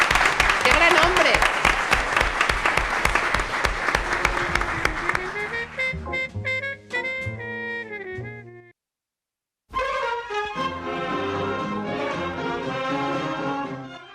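Loud, dense studio audience applause on a Spanish copla television show fills the first five seconds, then gives way to instrumental music, which breaks off into a brief silence before the music returns.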